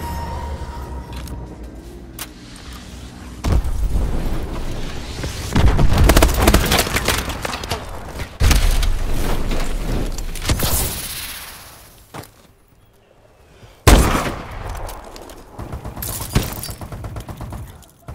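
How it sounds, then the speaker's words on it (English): Missile strikes and gunfire in a video game team deathmatch: repeated heavy explosions and bursts of rapid fire, loud and close, with rumbling booms swelling and fading between blasts and a sharp impact late on. "Enemy missile strikes incoming."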